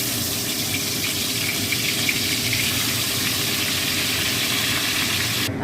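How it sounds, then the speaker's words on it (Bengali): Marinated chicken pieces for malai tikka fry in hot vegetable oil, making a loud, steady, close hiss of sizzling that holds for several seconds before cutting off abruptly. "এবার এইটাতে আমি এই মাংসগুলো সাদা তেল দিয়েছি, তেলটা গরম হয়ে গেছে, এই মাংসগুলো আমি ভেজে নেবো।"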